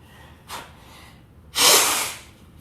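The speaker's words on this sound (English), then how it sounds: "Always sniffing and snotting." A person with a runny nose gives two sharp, wet sniffs, a short one followed by a longer, louder congested snort, close up with no talking.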